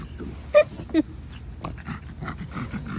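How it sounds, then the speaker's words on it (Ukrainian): A dog pants hard in hot weather, quick rasping breaths close up, with two sharper snorting bursts near the start. "Собака хэкая не потому, что он жирный, а потому что жарко."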